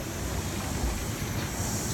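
Sydney Trains S set electric passenger train passing near crossbar pylons, a steady close rumble with hiss and rolling wheel noise throughout.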